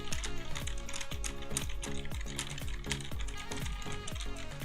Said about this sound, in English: First, we're going to do the Roccat Vulcan, and then we'll do the Razer Huntsman Mini.